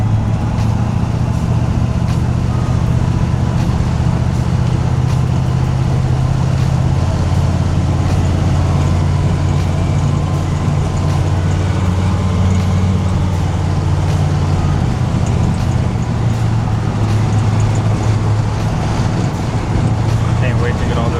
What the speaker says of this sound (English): I can't wait to get all this wind noise fixed in here.